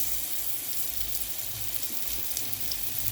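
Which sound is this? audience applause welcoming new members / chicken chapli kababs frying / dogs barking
chicken chapli kababs frying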